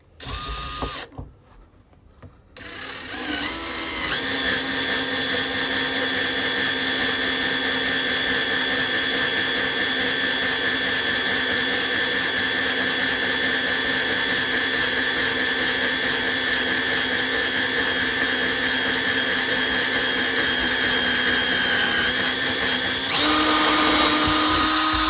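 A power drill bores steadily through wood while a LED strip grow light is being built, a continuous whirring drone that runs almost unbroken for over twenty seconds after a short start-up burst.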